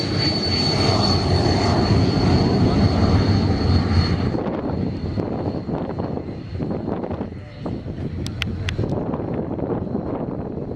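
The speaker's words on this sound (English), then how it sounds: "straight after we see Trappett running the Sabre up and down the runway" A loud Sabre jet engine roars steadily for several seconds, then eases off as the aircraft runs along the runway at an air show at Illawarra Regional Airport, with wind buffeting the microphone.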